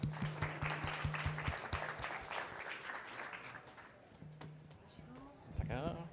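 Applause from an audience at a space career fair greets a speaker, a loose patter of clapping mixed with hum and crowd noise, fading as a voice begins talking near the end.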